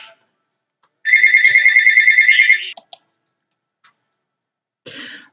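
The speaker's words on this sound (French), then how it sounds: "Oh, mon téléphone" A mobile phone ringtone rings loudly for about a second and a half as a rapid repeating electronic melody, then cuts off, followed by a couple of faint clicks and a brief rustle.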